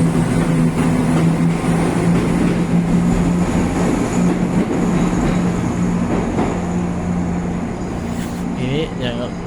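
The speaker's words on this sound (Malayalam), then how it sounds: "ഇനി ഞങ്ങൾ പെർത്തിലേക്കുള്ള ട്രെയിനിന് വേണ്ടി ഞങ്ങൾ വെയിറ്റ് ചെയ്യാൻ പോവാണ്" Train at a railway station platform in Scotland, a steady loud rumble with a sustained low hum from the waiting engine, while people talk nearby throughout.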